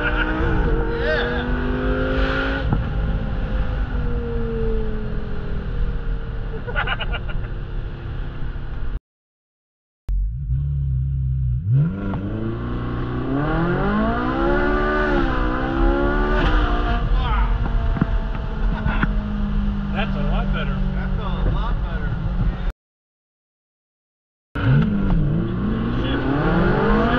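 A 2008 Lamborghini Gallardo or 2010 Ferrari 458 Italia launches hard on launch control, the engine revving loudly and climbing through rising gear pulls, with two brief dropouts in the sound.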